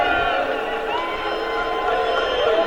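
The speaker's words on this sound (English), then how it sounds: "They're booing him." A large convention crowd at the Republican National Convention booing Mitch McConnell, a dense, sustained mass of jeering voices that stays loud and continuous throughout.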